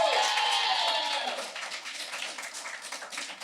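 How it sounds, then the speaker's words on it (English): A live audience clapping to vote in a podcast recording, a burst of applause with some cheering at the start that fades into scattered, thinning claps. "If you are voting for Sad But True by St. Vincent, clap your hands now."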